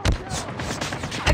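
Gunfire in Call of Duty Mobile on the Nuketown map during team deathmatch, a loud burst of shots at the start and another at the end, with a rattling exchange between them.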